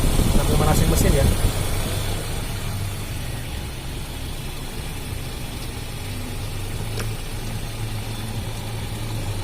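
A Daihatsu Feroza engine idles steadily while warming up after power steering pump seal work, a low, even rumble throughout, with some clatter near the start.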